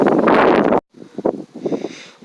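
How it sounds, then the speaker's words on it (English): Wind gusting across a lake during a fishing outing, a steady loud roar that cuts off abruptly, then lighter buffeting and rustling in uneven bursts. "And it's windy."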